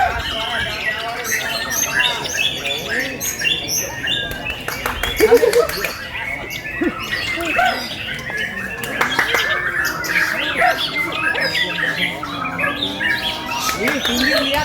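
Songbirds at a white-rumped shama (murai batu) singing contest chirp and squawk continuously over a crowd, with people talking throughout.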